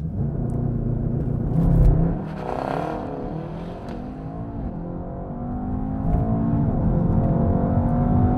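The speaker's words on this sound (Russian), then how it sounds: "Так, теперь провернем все то же самое с Мерседесом. Разгонюсь по максимуму" Mercedes-AMG E63 S accelerating at full throttle, a heavy engine roar that climbs in pitch through the gears with brief dips at each shift, steady and close from inside the car.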